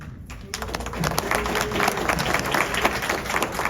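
Audience at a library board meeting breaking into applause, a dense burst of clapping that starts abruptly and holds steady at close range, with a few voices murmuring in the room.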